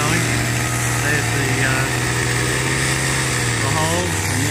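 A chainsaw cutting holes in farm fence strainer posts runs continuously at a steady drone, moderately close and loud, like idling, with faint voices underneath.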